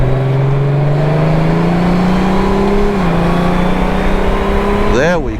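Honda Goldwing motorcycle engine pulling steadily as it powers out of a corner, a close, loud rising drone with shifts in pitch and a quick rev at the end.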